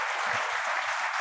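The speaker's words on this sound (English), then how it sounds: "could we please have a round of applause for the Finance Minister?" A conference audience applauds the Finance Minister, a brief burst of dense, even clapping from many hands, steady and moderately loud.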